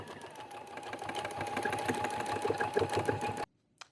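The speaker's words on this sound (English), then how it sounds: "Just did a back stitch back up" A sewing machine stitches denim binding onto a vintage throw quilt in a steady, continuous rapid whir that stops abruptly near the end.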